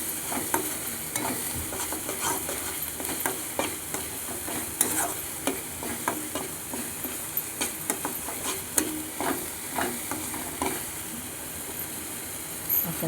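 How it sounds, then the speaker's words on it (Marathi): Food fries in oil in a pan under a constant sizzle, with frequent rhythmic scrapes and taps of a spoon stirring it close by; no voices. "आता तेल सुटत पुन्हा हलवायचं"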